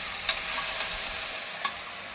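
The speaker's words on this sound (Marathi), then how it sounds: "दोन मिनटं आपण परतून घ्यायचे भाजी" Vegetable bhaji sautéing in a pan, with a steady close sizzle and two sharp spatula scrapes against the metal, no talking.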